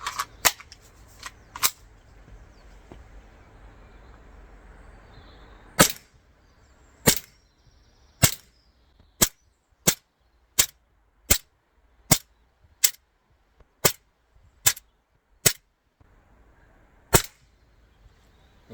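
An ASG CZ75 gas BB pistol fires about fifteen sharp, close cracks, three scattered early, then a steady run at roughly one-second intervals, with quiet handling noise between the shots.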